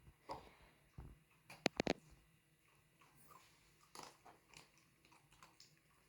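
A Border Collie eats food at home, with a few sharp crunchy bites and chewing sounds close by, scattered between quiet moments and small handling noises.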